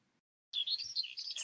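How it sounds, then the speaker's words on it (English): A skylark's song starts abruptly after brief silence, a fast, high, rambling warble that continues without pause, clear and fairly close. "Skylarks have a fast, long and rambling song which can include mimicry of other species."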